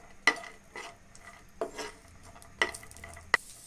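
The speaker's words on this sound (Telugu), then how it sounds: "ద్రాక్షని దోరగా వేయించుకోవాలి." Cashews and raisins fry in ghee in a pan, with a few sharp scrapes and clinks of a spoon stirring against the metal at irregular intervals over a quiet, faint sizzle.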